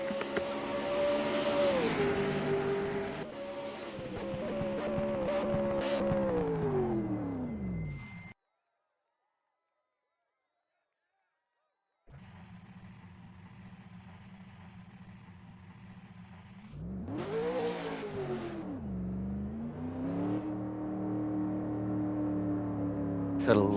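A V8 Supercar race car sweeps along the track during 2022 preseason qualifying, its engine note rising and dropping as it passes. The sound cuts out briefly, then the loud engine roars back and climbs again.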